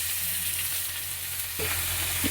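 Steady, close sizzling of onion and green chilli frying in hot oil, a continuous crackling hiss with a brief clatter of stirring near the end.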